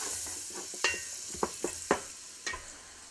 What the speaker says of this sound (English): I'm just going to let that cook for a few minutes until the onion softens.